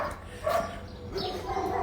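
A few dogs at a Tbilisi dog shelter give short, faint barks and yips in bursts, partly under quiet talk.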